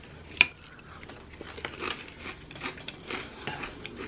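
A spoon clinks once against a bowl, then scoops up Mandalorian-themed cereal, followed by soft, close crunching and chewing with no talk.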